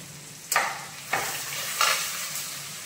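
Ground spices such as coriander, cumin, chili and turmeric are stirred and sautéed in a pan, with three distinct scraping stirs over a soft background sizzle, close and moderately loud, without any talking.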